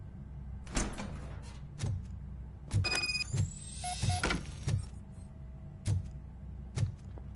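Sci-fi door sliding open in Robocop Rogue City, a mechanical whir with a rising electronic tone over repeated heavy footstep thuds and low game ambience, no talk.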